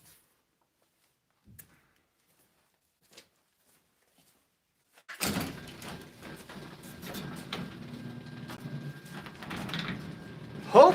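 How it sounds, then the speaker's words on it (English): A garage door opening, heard as a sudden burst of sustained rumbling and rattling noise that keeps going after a few faint taps, with voices mixed in. "I'm going to open a garage door"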